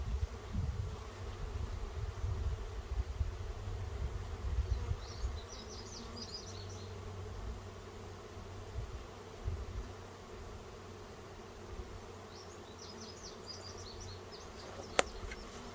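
A steady, dense buzz of many honey bees in a hive box fills the scene continuously, with occasional faint high chirps and a low rumble underneath.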